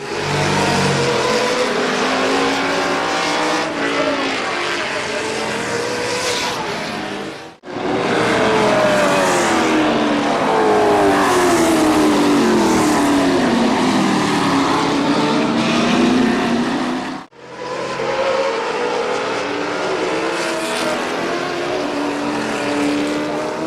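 Race cars lapping at Midvale Speedway, a dense loud roar of several engines passing in overlapping waves that rise and fall, broken by two brief cuts, with no voices over it.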